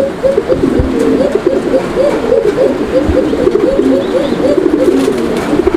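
A paired male fancy pigeon coos for its mate in a rolling, repeated call, close and loud, with the coos following each other almost without a break.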